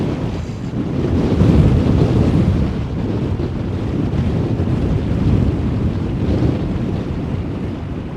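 Strong wind in Toronto buffets the microphone in loud, rumbling gusts that rise and fall throughout, with no voices.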